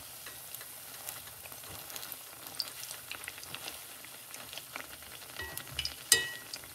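Faint sizzling and crackling of Jamaican festival dough made with coconut milk frying in a pan, with scattered pops and a couple of light clinks.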